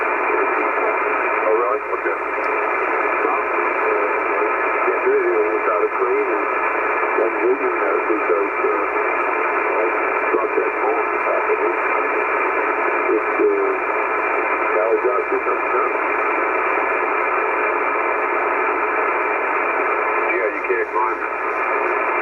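ICOM IC-730 all-solid-state HF ham transceiver receiving on the bands, a steady loud band of static and muffled, garbled voice audio that continues unbroken throughout.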